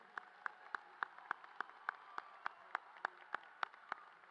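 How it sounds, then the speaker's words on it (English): Faint, evenly spaced claps at a steady quick beat, sounding like a single distant rhythm rather than a full crowd, given for graduating students at the Okemos High School graduation ceremony. "How about a nice round of applause for these exemplary students?"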